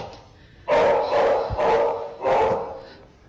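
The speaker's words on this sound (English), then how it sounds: "She's gonna go up and see what the dog's barking" A dog barks three times in slow, loud, drawn-out bursts close by, with a low hum beneath and no talking.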